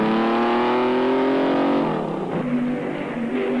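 Racing engines of 1957 Ferrari and Maserati Formula 1 cars at the German Grand Prix on the Nürburgring scream at high revs, the pitch falling and shifting as the cars pass close by.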